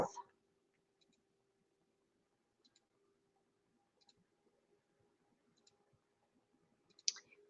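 A computer mouse clicking while browsing Christmas card designs, sparse single clicks spaced a second or so apart, quiet and close in near silence with faint background noise.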